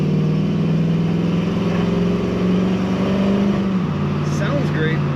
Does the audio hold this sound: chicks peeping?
no